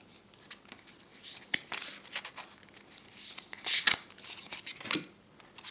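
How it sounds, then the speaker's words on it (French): Oracle Belline card deck being handled as a card is drawn: faint, close papery slides, shuffles and soft snaps scattered over a few seconds in a quiet room. "je vais piger une autre carte."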